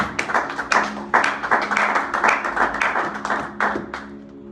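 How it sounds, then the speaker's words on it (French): Church congregation clapping and applauding together in acclamation of Jesus Christ, a dense, steady wash of many hands with rhythmic surges, loud and close, fading toward the end. "Acclamons Jésus-Christ"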